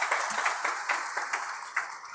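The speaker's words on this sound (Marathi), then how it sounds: "जोरदार टाळ्या वाजून त्याचं कौतुक आहे" Applause from an audience at an entrepreneurs' gathering marking a regional news channel's anniversary, a dense, steady patter of many hands clapping together for about two seconds at moderate volume with no one speaking over it.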